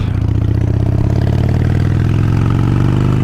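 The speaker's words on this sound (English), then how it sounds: "As we're rolling down the road on the Sportster" A Harley-Davidson Sportster motorcycle engine rumbles loud and close while riding down the road, a steady low pulsing throb with no talk over it.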